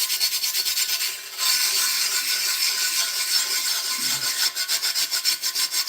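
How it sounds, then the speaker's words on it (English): Pumice stone scrubbing rust off a cast iron pan: a steady, close, abrasive rasping rub that runs almost continuously, pausing briefly once, then breaking into quicker back-and-forth strokes near the end. "So now I'm going to take my pumice stone here."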